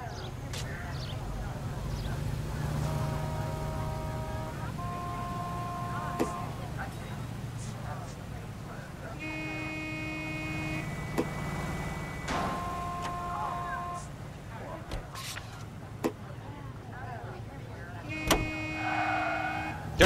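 Car driving in the L.A. Noire video game on PS4, a steady low engine rumble running throughout under music-like tonal bands and intermittent sharp clicks and bumps.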